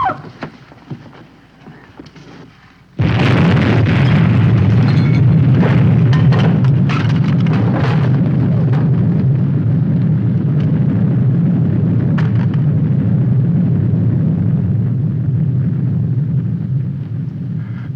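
A 1955 TV drama plays an explosion and its shockwave: a quiet stretch with faint sounds, then a sudden loud blast that becomes a heavy, sustained rumbling roar with crackles, fading slightly at the end.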